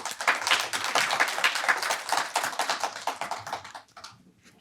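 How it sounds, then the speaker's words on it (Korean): An audience claps steadily to welcome the final presenter at a family disability advocacy speech event, a dense wash of many hands that holds level for about three seconds and then fades out toward the end. "마지막 발표자인 만큼 힘찬 박수로 모시도록 하겠습니다"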